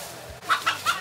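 A hen at a chicken-catching contest during a bikers' gathering lets out three quick, fairly close clucks in a row after a brief quiet moment.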